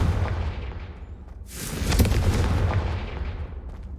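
A Confringo blasting spell goes off in Hogwarts Legacy: a sudden loud booming burst about midway, following a low rumbling bed, then a long crackling, rumbling decay that lingers to the end.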